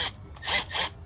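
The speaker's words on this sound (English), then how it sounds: "the way we're gonna drill this is just a step-up drill" A step drill bores a hole during work on a Nissan Sentra B13, giving three short rasping grinding strokes that rise and fall, close up with no talk.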